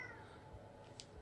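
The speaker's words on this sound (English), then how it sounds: "be quiet, cat" A cat meows once near the end, faint and brief against a quiet, murmuring room background with low music.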